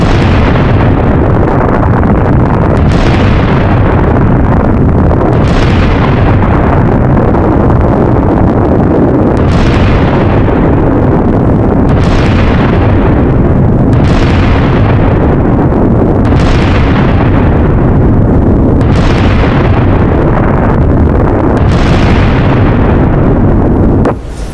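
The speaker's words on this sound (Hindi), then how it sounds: "अमेरिकी सेना ने ईरान पर ताबड़तोड़ बम बरसा दिए" Bombs from US military strikes on Iran, heard as loud, booming blasts repeating about every three seconds, each followed by a rumbling decay, with a continuous heavy roar between them and no voices.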